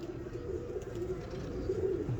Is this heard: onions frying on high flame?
no